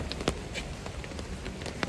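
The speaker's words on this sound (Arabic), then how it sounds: "تسمعون صوت المطر يا جماعة؟ تسمعون الصوت؟" Rain patters steadily on a nearby surface at a bird park in Malaysia, with scattered louder drops tapping through a soft continuous hiss.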